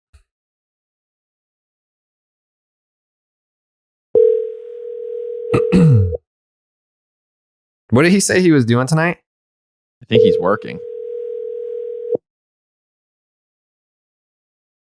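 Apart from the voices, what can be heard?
phone call ringing tone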